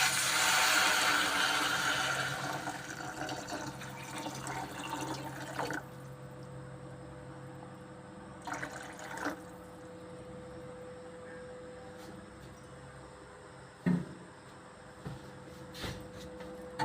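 Water pours into a pot for drumstick leaf soup with a rushing, splashing sound that fades after a few seconds, followed by quieter drips and small knocks.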